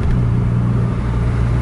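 A bus engine drones low and steady at close range during a bus race on an Aceh intercity road, a brief unbroken rumble with no voices.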